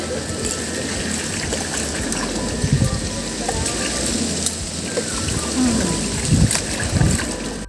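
Steady bubbling and hissing of boiling water for batik cloth dyeing, a dense continuous roil with occasional louder pops, close by.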